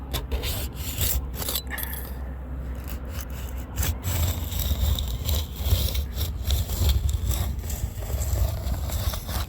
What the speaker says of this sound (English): When doing the sanding of the plexiglass